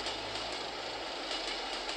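Toy-like chugging train engine from a Thomas and Friends building video game, driving forward with a drill attached to clear rubble from a tunnel, a steady rolling rumble with rhythmic clatter, continuous and fairly loud, no voices.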